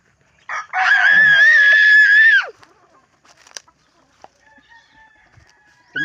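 A pet chicken named Chito gives a loud, drawn-out squawking call, then a few soft scattered pecks and faint clucks as it eats papaya, with quiet gaps between.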